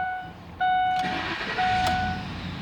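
A 2004 Lincoln Navigator SUV's engine cranks and catches with a sudden loud burst, then settles into a steady idle alongside a high electronic chime tone.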